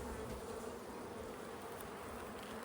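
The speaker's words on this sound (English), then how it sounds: "if you want to see a bunch of bees go crazy, you just do that right there" Honey bees buzz at an open hive as frames are checked, making a dense, steady drone of many insects close to the microphone with no talking.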